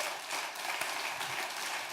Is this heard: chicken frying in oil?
no